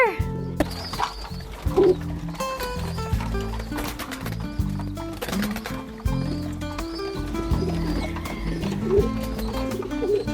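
Hungry pet pigeons coo repeatedly at feeding time, low throaty calls overlapping one another close by, with a few brief voices in the background.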